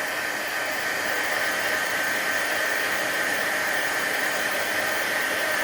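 A heat tool runs steadily while heat embossing powder on a card with a small and a larger pine tree design, giving a continuous close, loud blowing hiss with no pauses.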